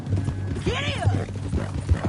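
Horse hooves clip-clop in Red Dead Redemption 2, steady rhythmic footfalls mixed with a voice and a whinny-like swoop, fairly close and moderately loud.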